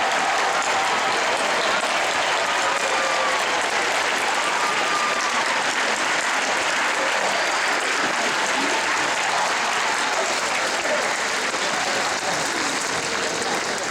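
Sustained audience applause at a Father's Day celebration, honouring event staff; a dense, steady roar of many hands clapping holds evenly for the whole stretch without a break.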